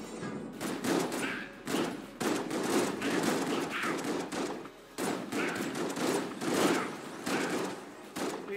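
Rapid automatic gunfire from a gun in the video game Enter the Gungeon rattles in long dense bursts, broken by brief pauses, loud and continuous with faint thuds mixed in.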